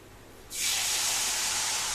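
Oil spread on a hot tava over a gas stove sets off a sudden loud, steady hiss and sizzle that continues unbroken after a quieter start.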